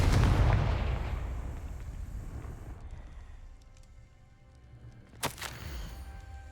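Confringo fire spell in Hogwarts Legacy detonates in a loud booming blast that rumbles and fades over several seconds, with a sharp crack near the end; game ambience stays underneath and nobody talks.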